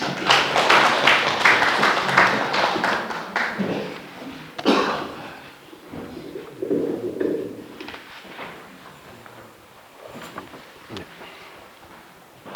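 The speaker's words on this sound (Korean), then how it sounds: "큰 박수로 모시겠습니다." A lecture-hall audience at an academic presentation claps loudly for about four seconds to welcome the next speaker, the applause fading into thuds, shuffling and scattered murmurs.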